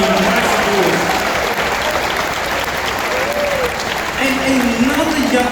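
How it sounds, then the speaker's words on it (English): A cruise ship audience at an elite platinum guest event breaks into loud, sustained applause, dense clapping filling the room for several seconds, with a voice talking over it. "Please give him a nice applause."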